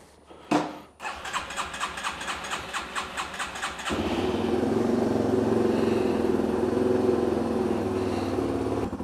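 A motorcycle engine is cranked and catches after a few rhythmic starter pulses, then settles into a steady, close running rumble that holds to the end.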